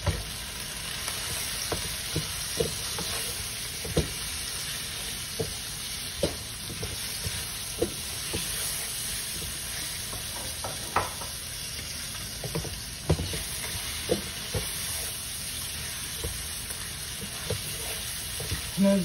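Chicken with spices and salt sizzles in a pot while a spoon stirs it, giving steady frying hiss with periodic scraping taps, close and continuous.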